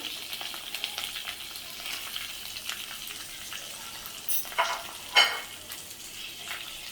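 Raw green tomatoes with peanuts and sesame seeds being sautéed in a pan for chutney: a steady soft sizzle with scattered scraping stir strokes, a few louder clatters near the end, no voices.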